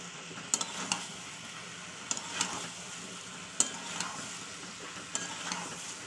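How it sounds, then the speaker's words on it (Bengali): Fried potatoes and egg are stirred into spice masala in a pan, a soft sizzle running underneath while a spatula scrapes and clinks against the metal at irregular intervals, with no speech. "এবার এটা মশলার সঙ্গে ভালো করে মাখিয়ে দেবো।"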